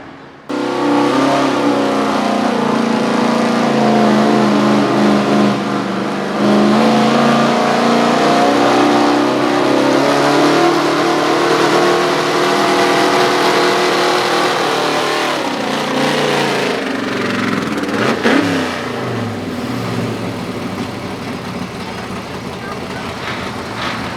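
A late-1970s Ford F250 pulling truck roars at a truck and tractor pull, its engine revving loud and close in a long, sustained howl that rises and falls before easing off near the end.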